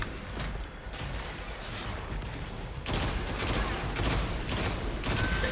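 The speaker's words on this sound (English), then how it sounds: "upped the recoil on this pulse rifle here." Rapid volleys from a pulse rifle crackle in Destiny 2, sharp repeated bursts stacking into a steady clatter that grows louder and denser in the second half, with no voices.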